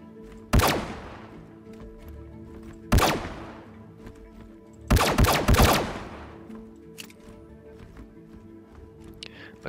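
Gunfire from a weapon in the video game Star Citizen: three loud bursts, a single shot, then another, then a rapid cluster of shots, each ringing out over a quiet low background.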